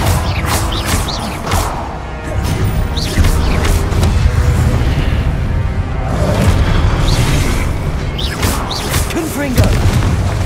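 Repeated Confringo blasting spell explosions in Hogwarts Legacy, loud booms and crashing bursts amid constant combat noise, with voices speaking over the din.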